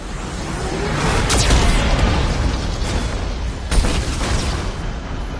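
Heavy Geth cannon blasts and explosions in the Mass Effect 2 video game, a loud sustained rumble broken by two sharp, bright impacts, the second bigger boom near the end.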